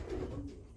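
A racing pigeon in a loft gives a single short, soft coo while being held in the hand, close and quiet.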